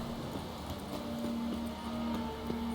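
Horse hooves clip-clop in a quick steady rhythm, moderately close, over a low hum of background ambience, as a horse approaches in The Witcher 3.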